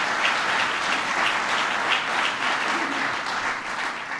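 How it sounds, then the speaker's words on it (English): An audience of mayors gathered to discuss jobs and the Recovery Act applauds Joe Biden. The clapping is a full, sustained burst from a large room, steady and slightly distant, with no speech over it. "So please give Joe Biden a big round of applause."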